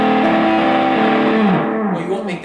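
Electric guitar through a restored, modified Fuzz Face pedal with AC128 transistors: one thick, buzzy fuzzed note rings loud and close, sustains, then bends and fades out.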